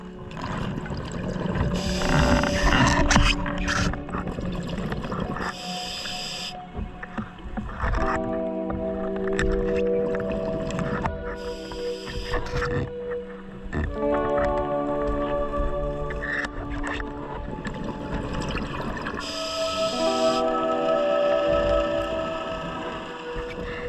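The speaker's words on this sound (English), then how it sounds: "The reassuring sound of the boat above our head." A boat engine passing overhead, heard from underwater outside St Peter Port harbour, a muffled droning and whirring that rises and falls with bubbly, gurgling water noise throughout.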